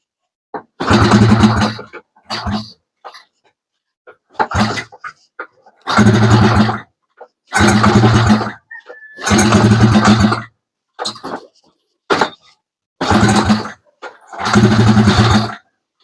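A motorcycle engine starting at night after an electrical fault kept it from running, firing in repeated loud bursts of revving separated by short pauses.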